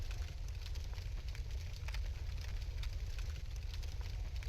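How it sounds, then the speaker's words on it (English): A steady low crackling roar of a fire burning in Dark Souls Remastered, continuous and fairly quiet, with faint irregular pops over a dense rumbling bed and no talking. "No, that's just the fire."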